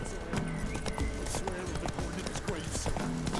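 Roach, a horse in The Witcher 3, gallops with a fast, even clip-clop of hooves throughout, fairly quiet, with a brief snort or whinny and a voice speaking over it.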